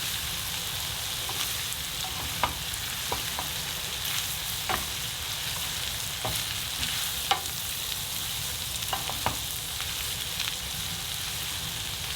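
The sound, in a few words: green beans added to frying spicy pork mince, stirred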